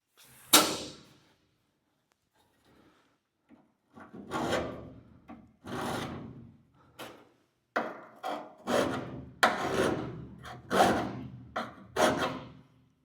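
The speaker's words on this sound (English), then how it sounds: "I'm going to get at it with a file now." A hand file rasps along the edge of a wooden door in a series of short separate strokes, some quick and some drawn out, close and fairly loud with pauses between them.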